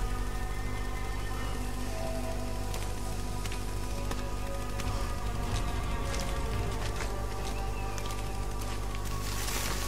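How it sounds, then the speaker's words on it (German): Steady rain falls in the video game Shadow of the Tomb Raider, a dense, continuous hiss with a faint low drone underneath and scattered light ticks, no talking. "Der Regen ist unnatürlich."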